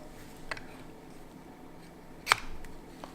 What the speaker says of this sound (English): And so the GoPro just mounts up